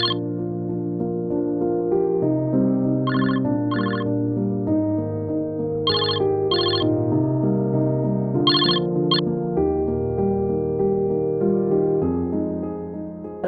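A mobile phone rings in a family home with a melodic tune that carries steadily for over thirteen seconds, bright chirping notes repeating in short bursts over it. No voices are heard.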